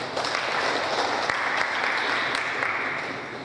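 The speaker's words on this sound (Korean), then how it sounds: "박수로 맞아주십시오" Audience applause at a Korean tax information seminar as a speaker is welcomed, a dense, loud burst of many hands clapping that holds steady then begins to fade.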